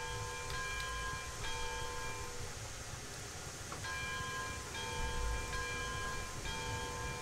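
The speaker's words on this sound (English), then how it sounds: "and we'll get some bell action" A steam locomotive bell in the Railroads Online video game rings repeatedly in a steady rhythmic clang, with struck tones sounding several times over a constant rumbling background.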